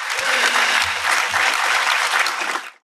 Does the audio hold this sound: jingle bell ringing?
no